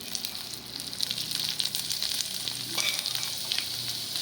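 Toor dal frying in oil in a pan, a steady close sizzle with light crackles and occasional stirring scrapes running throughout, no talking.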